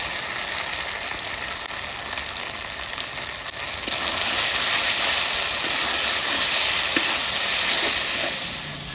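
Turmeric-spiced masala of cumin, ginger and dried chilli frying in a pan, a steady broad sizzling hiss that swells louder midway and holds, with a few faint scraping ticks.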